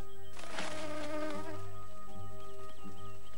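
Cartoon wasps buzz in a busy, wavering insect drone that swells loudly near the start and then holds steady, with no talk over it.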